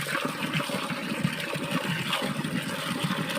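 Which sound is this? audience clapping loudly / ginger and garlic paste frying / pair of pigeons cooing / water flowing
water flowing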